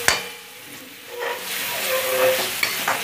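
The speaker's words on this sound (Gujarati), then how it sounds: "બરાબર મિક્સ કરી દઈશું." Chopped onion and green garlic stirred in a hot pan for baingan bharta, a steady close sizzle and frying hiss with scraping stir strokes rising and falling, no talking.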